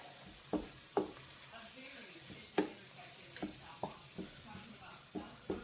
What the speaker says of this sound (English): Stir it until all the white disappears.